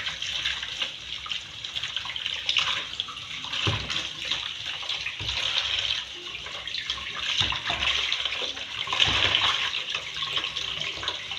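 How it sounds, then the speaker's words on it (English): Tap water runs steadily into a sink while soursop leaves are rinsed, a continuous splashing hiss with small shifts as the leaves move under the stream. "So I have to rinse it. Rinse it very well."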